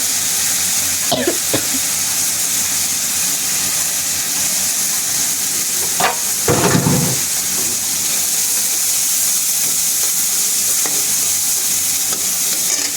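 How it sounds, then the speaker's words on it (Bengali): Dried fish dropped into a pan of well-cooked masala, sizzling loudly and steadily, with a few scraping stirs and a sharp burst of spattering partway through. "এবার এই যে শুটকি মাছগুলো দিয়ে দিচ্ছি।"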